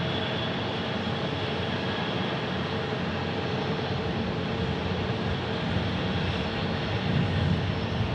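An American Airlines Airbus A321neo jet passes near Phoenix Sky Harbor Airport, its steady broadband engine roar loud and continuous throughout, swelling slightly near the end, with no voices.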